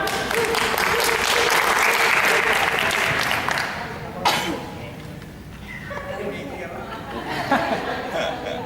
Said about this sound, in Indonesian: Ayo kita tepuk tangan.